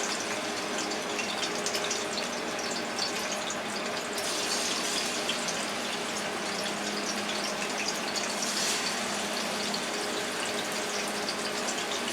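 A dense, continuous hiss of chicken fingers frying in hot oil, steady and loud throughout with no voices.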